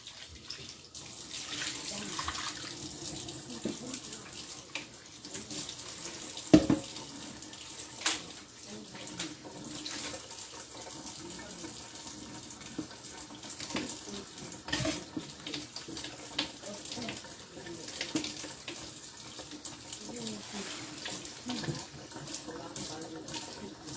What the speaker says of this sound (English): So just go ahead and rinse that out.